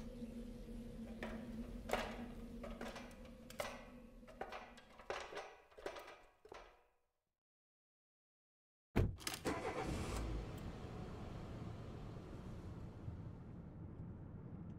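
In the game Red Embrace: Hollywood, a series of heavy clunks and thumps ends in a few seconds of silence, then a car engine abruptly roars to life and keeps running loudly as the car pulls away.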